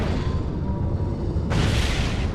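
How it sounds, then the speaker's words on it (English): An explosion sound effect in The Great Ace Attorney, a loud broadband blast that bursts in halfway through over a rumbling low background, heard alone without talk. "Holy explosion."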